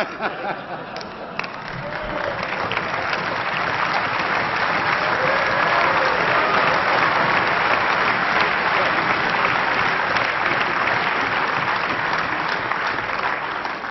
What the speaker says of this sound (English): That's the last time you are applauding here.